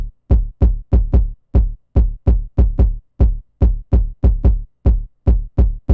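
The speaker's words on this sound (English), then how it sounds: "Starting off, guys, we have the kick pattern, which is going to sound like this." Jersey club kick drum pattern programmed in FL Studio, about twenty punchy booming kicks in a bouncy syncopated rhythm with short gaps, loud, dry and alone.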